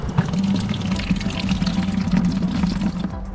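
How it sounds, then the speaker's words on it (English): Water poured from a 5-gallon water tank into a bucket at the shore for rinsing freshly dug clams, a steady, close, continuous splashing gush lasting throughout. "I'm gonna put some water in the bucket, clean these guys up"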